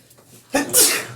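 A single sharp sneeze, close and loud, bursts out after a short quiet intake of breath.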